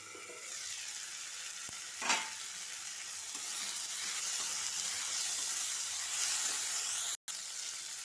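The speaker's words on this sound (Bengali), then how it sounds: "টমেটোগুলো দিয়েও ভালো করে আমি নরম করে নেব টমেটোগুলো" Tomatoes fry with softened onions in a pan, giving a steady soft sizzle and hiss throughout with one brief louder scrape, faint and close, no talking.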